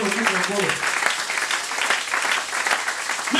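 A church congregation breaks into dense, sustained applause and cheering, the clapping loud and continuous with voices mixed in.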